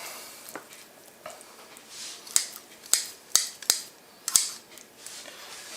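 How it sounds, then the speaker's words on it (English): Several crisp scissor snips cut through a raw chicken's backbone, spaced irregularly, close by with a quiet background. "That's all that we need to do with the scissors"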